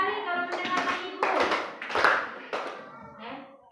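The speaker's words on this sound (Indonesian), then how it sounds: "Tepuk 3 kali kalau mendengarkan Ibu." Schoolchildren in a classroom clap in short bursts on their teacher's cue, with children's voices chanting along and talking between and over the claps.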